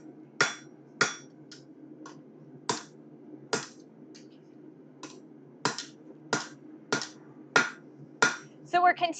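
Steady hammer blows on hot metal while forging at a smithy, about fifteen sharp ringing strikes in an uneven rhythm with short gaps, close and clear over a low background hum, ending in a quick flurry of lighter taps.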